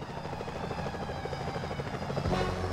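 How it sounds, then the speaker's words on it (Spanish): Security helicopters in the video game Sly Cooper: Thieves in Time, a steady loud rotor drone with rhythmic chopping that carries throughout, swelling slightly near the end. "Cuidado, Sly, esos helicópteros de seguridad no traerán nada"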